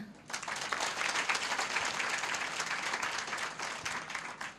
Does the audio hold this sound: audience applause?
yes